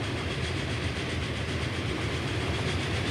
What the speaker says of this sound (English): One of the trains returning.